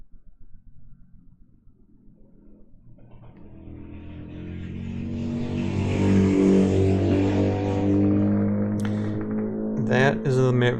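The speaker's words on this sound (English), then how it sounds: "That is a very loud motorcycle that came by." A very loud motorcycle passing by outside, starting faint and swelling into a near, roaring engine drone that holds for several seconds before fading off.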